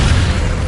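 A Descendo spell slams down in the Hogwarts Legacy video game, a short, heavy, loud low-frequency thud with a rumbling boom and no voices.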